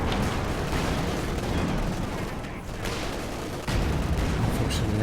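Mortar barrage in the World War II strategy game Company of Heroes 2, dense layered explosions and gunfire rumbling continuously, loud with a sharp fresh burst near the end.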